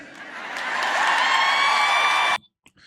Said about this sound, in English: I love the applause, right?